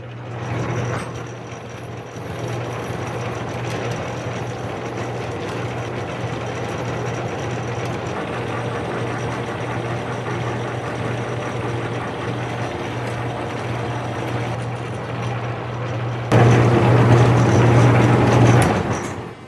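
A metal lathe runs under power in forward gear, a steady mechanical drone with a strong low hum that holds evenly for most of the stretch and grows louder near the end.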